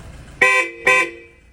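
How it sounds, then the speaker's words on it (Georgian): A newly fitted car horn sounds two short, loud, close honks in quick succession, with quiet background noise between and after them. "მიდი აბა დაასიგნალე კიდე"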